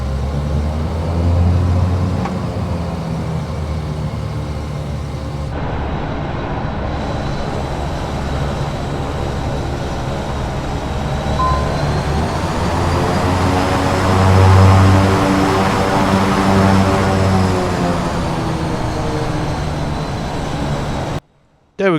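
Saab 340B turboprop engine in Microsoft Flight Simulator 2024: a steady, loud droning hum with a whining upper tone, briefly shifting character partway through and then cutting off abruptly near the end.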